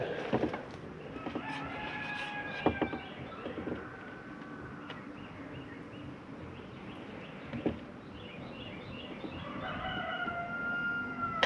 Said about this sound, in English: There's that rooster, that damn thing.